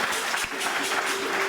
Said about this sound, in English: If it was so, clap your hands.